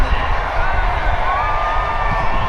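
A dense, loud crowd roars and cheers at the Silverstone Formula 1 race, a steady wash of noise close around, with someone talking over it.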